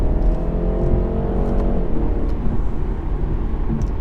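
BMW 330i Touring with the B48 engine accelerating hard, a steady loud engine drone whose pitch climbs and then eases back as it pulls, heard from inside the car with no talking.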